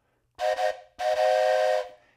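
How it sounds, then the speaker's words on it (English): A toy train whistle gives two breathy, steam-style blasts, a short one followed by a longer sustained one, close and clear with no talking. "when I blow my trusty toy train whistle"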